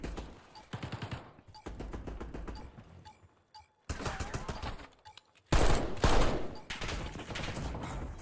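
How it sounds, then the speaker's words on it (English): Rapid automatic gunfire from Black Ops 6 in a 2v2 Gunfight tournament match, sounding as dense volleys of shots. A brief lull leads into a louder, closer burst, followed by sustained firing. "Phobic's taking some shots"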